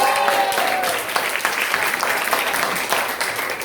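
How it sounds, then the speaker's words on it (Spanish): A church congregation applauds warmly, a continuous crowd of hands clapping loudly and steadily for several seconds. "Por favor, un aplauso para todos ustedes."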